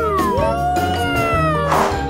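A person imitates a cat with a drawn-out, wavering vocal meow, loud and close, sliding in pitch and rising into a strained cry near the end.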